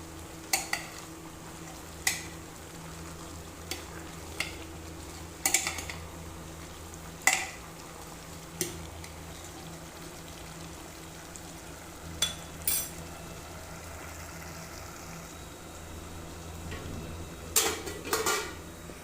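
Vegetable tempering sizzling in a pan under sharp, scattered clinks and scrapes of a utensil against metal, irregular and close by, with no talking.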